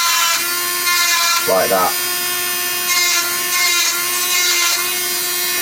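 Dremel rotary tool cutting circuit board traces on an IBM PS1 2011 motherboard, a steady high whine running almost throughout with brief dips, close and loud, and a short spoken remark partway through.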